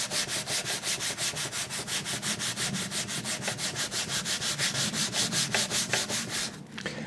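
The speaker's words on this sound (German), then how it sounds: "Dann probieren wir noch die mechanische Version mit dem Schleifschwamm." Steady rhythmic scratchy rubbing of a sanding sponge removing moss and lichen, fast even back-and-forth strokes, close and continuous, stopping near the end.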